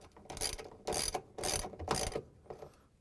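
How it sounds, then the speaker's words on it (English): A 3/8 socket wrench ratchets bolts loose-fit into a GE washer drain pump, four quick clicking bursts in an even rhythm followed by a fainter fifth, close and alone. "3/8 socket wrench. I'm not tightening it yet."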